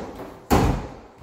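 A sticking closet door shifts once with a single sharp bump and a short rumbling scrape, close by in a quiet room.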